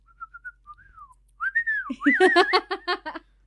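A person whistles a short, sliding melody, starting with a few soft chirpy notes, then a louder warbling run of rapid tones close by.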